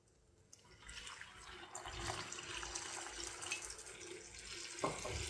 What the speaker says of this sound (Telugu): ఇప్పుడు మనం వాటర్ వేసుకుందాం గ్రేవీ కోసం.